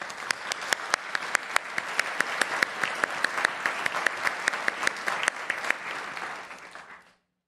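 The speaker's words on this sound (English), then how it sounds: "Please give them a round of applause." Warm applause at a pharmacy school hooding ceremony, a crowd clapping steadily with a few loud close claps standing out, then fading and stopping abruptly near the end.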